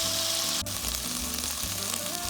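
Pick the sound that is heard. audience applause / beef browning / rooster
beef browning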